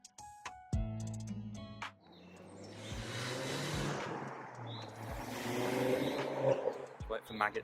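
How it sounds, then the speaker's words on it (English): A boy racer's car drives past on the street, its engine and tyre rush swelling over several seconds and then fading, with a tyre squeal and some faint, indistinct voices. "Wait for Maggot Dick to drive past"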